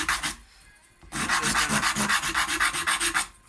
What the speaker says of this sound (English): I'm using 100 grit sandpaper